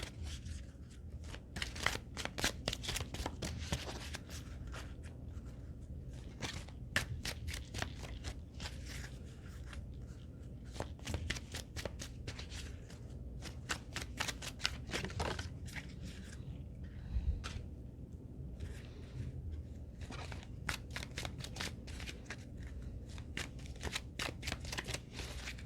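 Oracle cards shuffled steadily for a long stretch, a dense run of close papery riffles and flicks with a few brief pauses, alone with no talk.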